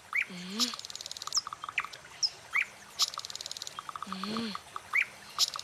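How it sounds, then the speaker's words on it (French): Cartoon forest birdsong: bright repeated chirps and tweets in quick bursts, a couple of swooping whistled calls, clear and fairly close over soft background ambience. "Écoute le gazouillis des oiseaux"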